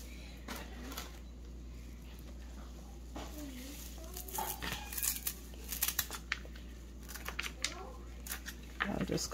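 Harvested parsley cut into large portions, rustling and crinkling of leaves with scissor snips that grow busier in the second half, under a steady background hum.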